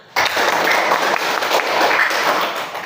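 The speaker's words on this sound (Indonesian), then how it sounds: "Berikan tepuk tangan." Students in an Indonesian classroom break into a brief burst of applause, steady clapping that lasts a few seconds and then trails off.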